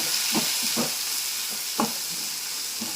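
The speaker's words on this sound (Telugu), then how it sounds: "ఉల్లిపాయలు మగ్గనిద్దామండి." Onions sizzle steadily in hot oil for bagara rice, a constant hiss broken by a few soft stirring scrapes, close and alone without talk.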